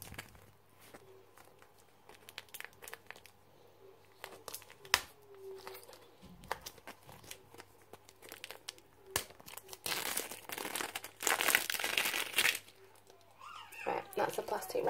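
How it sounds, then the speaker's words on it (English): Plastic wrap is peeled off a konjac cleansing sponge, giving scattered crinkling and crackling with short pauses and a louder burst of rustling toward the end; no talking. "Okay, so you would peel off that plastic"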